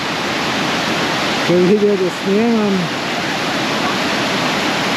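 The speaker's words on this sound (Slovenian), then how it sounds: "je kar daroča voda" Rushing water of a waterfall on an island in the Philippines, a loud continuous broadband roar filling the whole clip, with someone speaking briefly over it in the middle.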